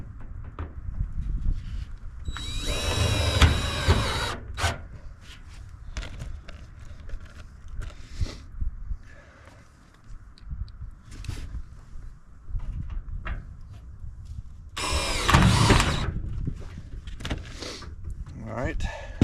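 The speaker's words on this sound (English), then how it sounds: "Let's see if we can't put a couple screws in it." A power drill drives screws into old tin roofing in two short whirring bursts, separated by a long stretch of quieter outdoor background.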